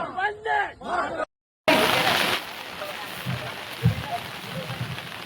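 Rain falls during an outdoor Independence Day yoga group gathering in Airoli, a steady broadband hiss with a few soft thumps. A voice speaks briefly at the start before a short silence.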